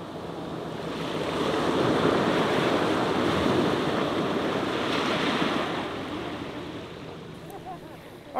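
Ocean waves wash over a rocky intertidal shore in a broad, steady roar of surf that swells and then eases toward the end, with wind buffeting the microphone and no voices.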